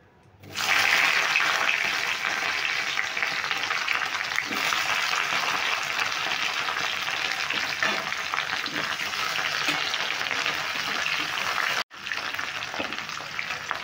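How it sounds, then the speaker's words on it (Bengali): Chopped capsicum frying in hot oil seasoned with cumin seeds for a no-onion, no-garlic chili paneer gives a loud, steady hiss and crackle, near and continuous, with a brief break near the end and no talking. "তেলটা আমার গরমই আছে, আমি এখানে কিছু জিরে ফোড়ন দিয়ে দিচ্ছি। জিরে ফোড়নটা আমি ভালো করে ভেজে নিলাম। দিয়ে দিচ্ছি আমি ক্যাপসিকাম কাটাগুলো।"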